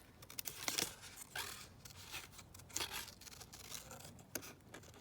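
Scissors cut through paper in quiet, close snips and rustles, with short irregular crisp bursts as the blades work around a shape, and no talk.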